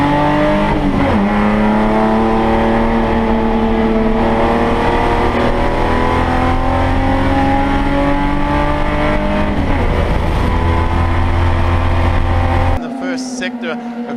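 Saloon race cars at Phillip Island Raceway, a loud sustained chorus of engines screaming at high revs, pitch climbing and dipping through gear changes, close and continuous before abruptly cutting to a quieter background.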